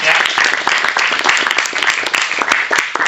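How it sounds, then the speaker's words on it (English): Dense, sustained applause from an audience at the Startup Weekend Košice 2019 opening ceremony, loud and continuous clapping filling the whole stretch with no talk over it. "Give them a round of applause."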